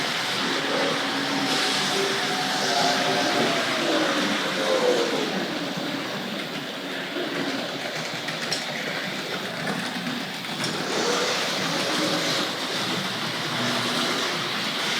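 Small Tri-ang RFX Suburban electric model trains rumble and rattle around a track at moderate volume, the steady mechanical whirr rising and easing as they pass.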